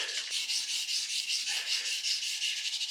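A soft willow charcoal stick is pressed hard across paper to sketch a hedgerow, giving a continuous dry, scratchy rubbing with rhythmic strokes, close and steady with no talk.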